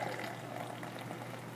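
Milwaukee Special Reserve Ice beer, 5.9% ABV, poured straight down the middle into a glass, giving a soft continuous fizzing, gurgling stream of liquid at low volume.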